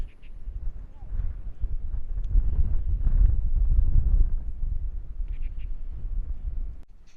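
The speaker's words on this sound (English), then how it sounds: "Love the view, man, but the wind is huge." Strong wind at a coastal viewpoint in Longtan Park, Kenting National Park, Taiwan, a deep rumbling buffeting roar that swells in the middle and eases off, with no talking.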